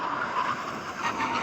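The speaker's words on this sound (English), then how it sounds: "now we're going to have a brake test from 100 miles an hour" Porsche 911 GT2 RS, Turbo S and GT3 under full emergency braking from 100 mph, with a loud continuous roar of engines and tyre squeal.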